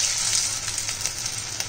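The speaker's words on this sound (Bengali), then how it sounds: "আগে কটা ভেজে নিই, তারপরে বাকিগুলো।" Dhoka lentil cakes crackle and sizzle in hot oil, a dense steady frying hiss heard close up with no talk.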